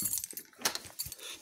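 Keys jangle in a hand on the way out for an apple-picking walk, several short bright metallic clinks and rattles in quick irregular bursts, close and fairly quiet.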